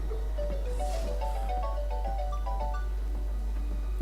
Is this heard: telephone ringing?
yes